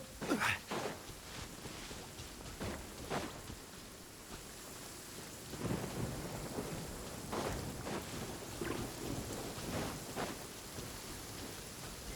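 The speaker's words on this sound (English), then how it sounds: "This heavy rain must be quite..." Heavy rain hisses steadily in the video game Genshin Impact while repeated rumbling thunder cracks and rolls break through at intervals, moderately quiet overall.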